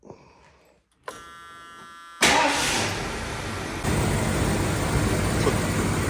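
1978 Lincoln Continental starting after 38 years: a faint hum and a buzzing tone, then the starter catches and the engine bursts into a loud, rough idle that steps up to a higher, steady roar.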